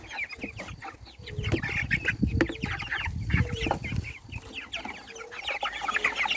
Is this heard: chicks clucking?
yes